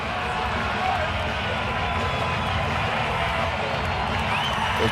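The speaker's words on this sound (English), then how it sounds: "the crowd comes to their feet and cheers on their hero" A Moscow arena crowd on its feet cheering Oleg Taktarov's submission win at a Bodog Fight event, a dense, steady roar of cheers and clapping under continuous talk.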